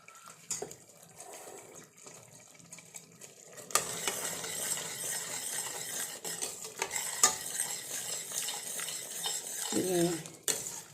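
Jaggery payasam stirred in a pan to keep it from sticking, with a spoon scraping and clinking against the metal over bubbling and sizzling, close and continuous, growing busier partway through.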